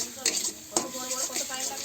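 Ground cumin, turmeric, dry chilli and salt stirred in a pan, quick scraping strokes with a couple of sharper knocks against the pan over a low sizzle.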